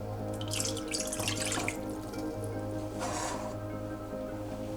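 Water runs steadily from a tap into a vessel, splashing and gurgling, with a constant low hum in the background and no voices.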